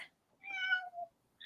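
A pet cat gives a single clear, drawn-out meow with a falling tone, close and fairly soft, in an otherwise quiet room, with faint voices at the edges.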